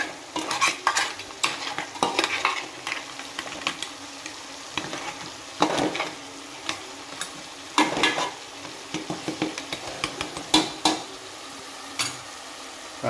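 A crab curry with a paste of coconut, onion, ginger and garlic is stirred in a pan, with irregular scraping and clinking strokes over a faint sizzle of frying throughout.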